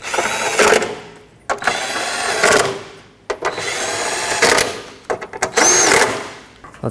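Bursts of ratchet-like mechanical clicking and whirring as bolts are tightened on the dual radiator coolant fan assembly of a 2005–2010 Pontiac G6, coming in about four separate runs with short pauses between them.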